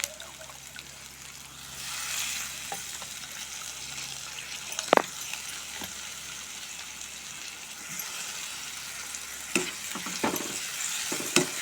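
Prawns and curry leaves fry in a pan, giving a steady soft sizzle with wet bubbling. Occasional sharp clicks come from a stirring utensil. The sound is moderate and close, with no talking.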